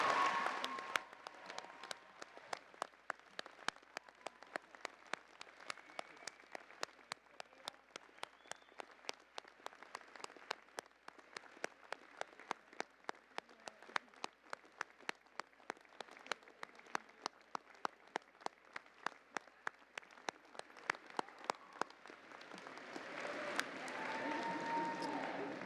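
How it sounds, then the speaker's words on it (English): University convocation graduates applauding their supporters, a long, steady roll of clapping from a large hall crowd, fairly quiet and even, with individual sharp claps standing out throughout and a swell near the end. "give a huge round of applause to all the people who supported you throughout"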